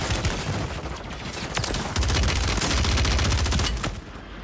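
SMG gunfire in the video game Call of Duty Vanguard, loud rapid bursts of shots, with a long sustained stream in the middle before tapering off.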